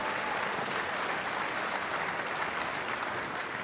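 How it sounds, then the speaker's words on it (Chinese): Guests in a wedding hall give steady, even applause as the bride and groom walk in, a dense continuous clatter of many hands at moderate distance with no talking over it. "朋友们，不要忘记您的掌声，伴随2位新人的脚步"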